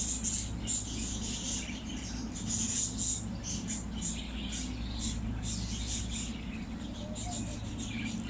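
Birds chirp in a natural outdoor setting after rain, with small high bright calls scattered over a steady low background hum.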